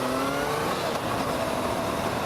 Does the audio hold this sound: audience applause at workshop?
no